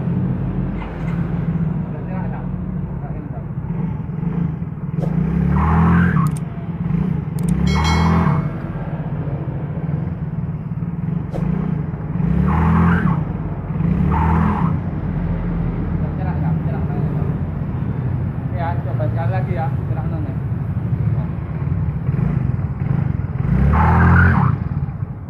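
Yamaha Mio J scooter engine revved repeatedly, its transmission slipping under throttle, a steady droning hum with periodic surges in revs and a loud, continuous presence throughout.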